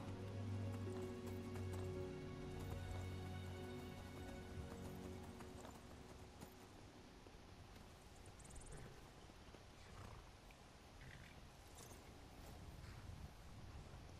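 Horse hooves clip-clopping steadily in the Skyrim video game, with a neigh or whinny, under a continuous layer of game music and ambience.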